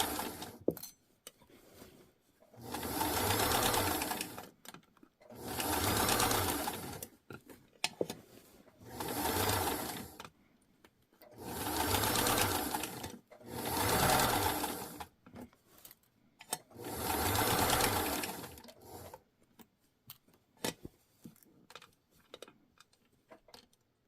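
A home sewing machine stitches a side seam on a New Look 6603 garment in six steady whirring bursts, each a few seconds long. Quiet pauses with small clicks and handling noises separate the bursts.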